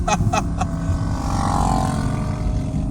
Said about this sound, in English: I think I heard a backfire finally.